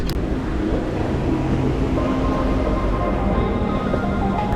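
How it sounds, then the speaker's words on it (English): Bangkok metro train in motion, a loud, steady rumble of the carriage running along the track with a constant hum and no speech. "So we're going to jump on the metro now and head to Wat Arun"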